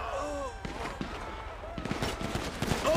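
Rapid gunfire rattles through a GTA V shootout between a gang and police at a police department, with bursts of shots coming close and loud alongside shouted voices.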